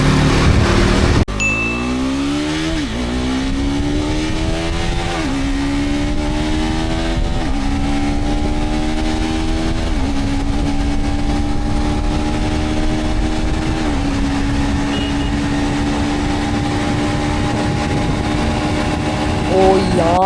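A KTM 390 Adventure motorcycle accelerating hard through the gears with its quick shifter, engine note climbing steadily then dropping at each fast, clean upshift, loud and close with constant wind rush.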